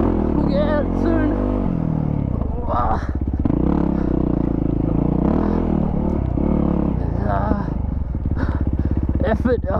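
A Yamaha WR450F dirt bike engine revs and labors over rough trail on a hot day, rising and falling with clattering bumps, while a rider talks and grunts over it.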